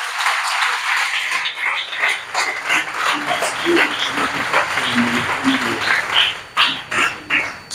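A church congregation applauding during a Sunday service, a dense sustained wash of clapping and cheering voices that swells and pulses before tapering into separate rhythmic bursts near the end.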